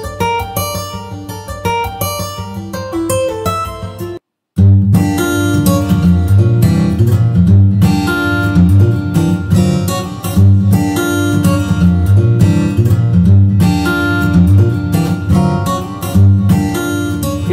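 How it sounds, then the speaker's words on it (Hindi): Guitar riffs from the Ample Guitar Martin Riffer virtual instrument: loud, busy strummed and picked acoustic-guitar patterns playing continuously, broken by one short silent gap partway through. "ये जो बटन हैं यहाँ पे इसके साथ आप डिफरेंट डिफरेंट जो रिफ्स हैं उसको सुन सकते हैं।"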